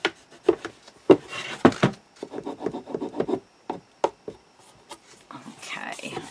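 Folded paper is burnished by hand for an undersea-themed mini album and display box, giving repeated short rubbing and scraping strokes, close and moderately loud, in bursts with brief pauses between them.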